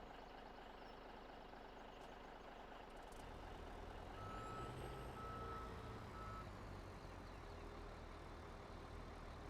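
A Peterbilt truck reversing in Farming Simulator 17: a low diesel rumble swells as it backs up, with a faint, steady reversing beep running throughout.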